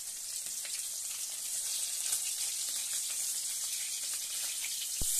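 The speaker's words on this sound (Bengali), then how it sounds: "আমি মাছগুলোকে ভালো করে ভেজে উঠিয়ে নিচ্ছি" Rohu fish pieces rubbed with salt and turmeric frying in hot oil, a steady, fairly quiet hiss and sizzle with faint crackles, near and continuous, no talk.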